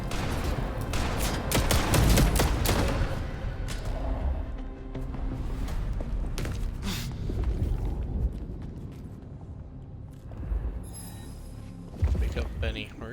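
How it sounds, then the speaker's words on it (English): Bursts of gunfire in the Vampire The Masquerade Bloodlines 2 video game, dense and loud in the opening seconds, then sporadic shots and impacts among game effects, with someone talking over parts of it. "This guy can just shoot me through the ground."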